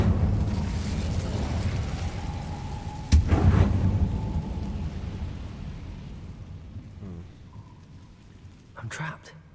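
An Incendio fire spell is cast: a sudden loud whooshing burst erupts, then a rumbling crackle trails off and fades, with a brief fainter flare near the end.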